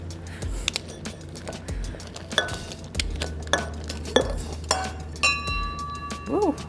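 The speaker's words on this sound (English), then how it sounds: "disassemble your shaker" A metal cocktail shaker is pulled apart: a series of sharp metallic clinks and clanks, several bright ringing taps and a scraping twang, close and fairly loud, with faint room noise.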